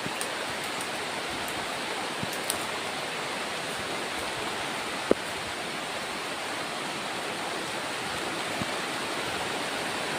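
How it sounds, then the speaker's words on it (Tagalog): Heavy rain pours down in a steady, dense hiss that holds evenly throughout, with a few faint ticks and no one talking. "sobrang lakas ng ulan"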